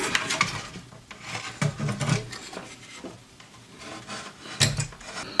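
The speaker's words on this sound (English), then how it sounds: "I'm taking the speaker out." Old Kriesler valve radio being taken apart, its speaker lifted out of the large case: scattered rubbing, scraping and knocking of wood and metal parts, close and moderately quiet, in uneven bursts.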